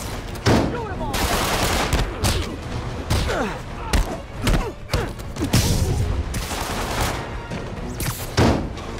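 Repeated volleys of gunfire and impacts in the video game Marvel's Spider-Man, loud and dense, with bursts of shots, thuds and crashes in a chaotic fight and some voices mixed in.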